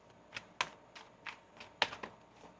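Tarot cards give a series of sharp, crisp riffling snaps during shuffling, about eight quick bursts spaced unevenly, close and fairly loud against a quiet room.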